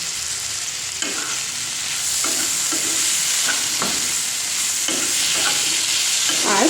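Potatoes frying in a pan with turmeric powder and tomato, a bright steady sizzle that swells slightly, with intermittent scraping strokes of stirring and no speech.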